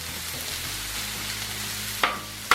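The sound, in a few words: stir-frying vegetables and sliced garlic on a Blackstone griddle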